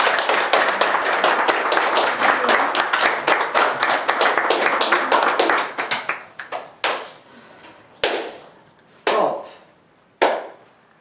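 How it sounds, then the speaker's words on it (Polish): A small audience applauds after a film award with brisk, dense clapping that thins out into a few scattered, separate claps with pauses between them. "No to oklaski, oklaski."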